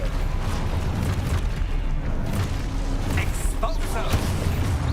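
Explosive spell blasts in Hogwarts Legacy, loud booming bursts and crackling impacts over a noisy battle, with someone talking over them.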